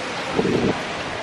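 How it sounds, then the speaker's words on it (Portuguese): Wind at a beach buffeting a camera microphone, a dense continuous rumble and roar, loud and close with no talk. "será que essa câmera vai cortar o som do vento"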